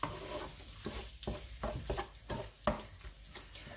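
Minced meat sizzles in a pan on a hob turned to maximum, with a steady fry and a rhythmic series of scraping stirs and light taps from a utensil, close and fairly quiet, no talking.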